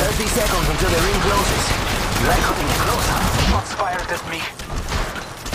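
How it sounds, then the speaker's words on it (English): Rapid gunfire in the mobile shooter Apex Legends Mobile crackles in dense, overlapping bursts, loud at first and then thinning into scattered shots, with voices talking over it. "They're shooting at me. I'm firing."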